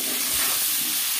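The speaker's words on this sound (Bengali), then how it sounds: "এবারে লবণ আর হলুদ দিয়েও আরও একবার নাড়াচাড়া করে নিলাম। এই সবজিগুলোকেও ভালোভাবে ভেজে নিতে হবে।" Vegetables sizzling in a pan with salt and turmeric for Bengali shukto, a brief, steady, close frying hiss with no talk.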